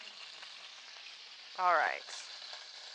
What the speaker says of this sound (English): Just gonna sizzle a little bit in there because there's maybe like a speck of oat milk in there.